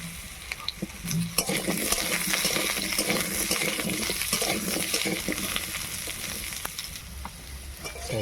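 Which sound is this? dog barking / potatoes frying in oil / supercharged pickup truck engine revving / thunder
potatoes frying in oil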